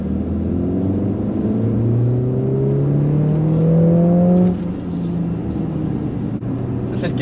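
A car drives and accelerates nearby, its engine note climbing in a steady whining rise for several seconds before easing off, with a faint voice briefly in the background.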